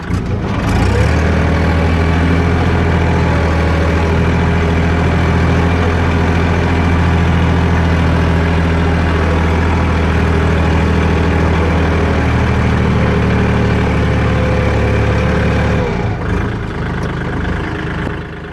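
A farm tractor engine idles loudly and close for most of the time with a steady low chug, then cuts off near the end.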